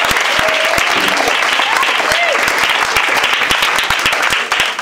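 Congregation at a church service applauding and cheering for Jesus, dense continuous clapping that fills the space, with shouted voices and whoops rising over it throughout.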